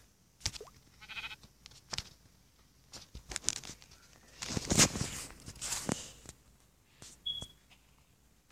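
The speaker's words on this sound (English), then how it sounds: "Sheep." Sheep bleating in the Minecraft element sword mod, with a few short game bleats mixed among soft footstep-like patter and clicks, fairly quiet overall.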